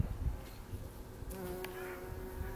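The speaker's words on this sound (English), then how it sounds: "Pollinating insects. This beautiful bee here." A bee buzzing around flowers on an allotment, a faint, wavering drone close by with light outdoor background noise and a couple of brief clicks.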